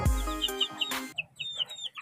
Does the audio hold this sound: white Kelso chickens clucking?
yes